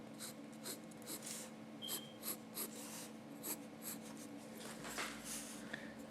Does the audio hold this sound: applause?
no